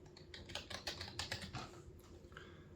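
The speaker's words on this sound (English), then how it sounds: "I'm just gonna type default." Fingers type on a computer keyboard at close range, a quick burst of soft key clicks followed by a couple of slower taps, with no talking.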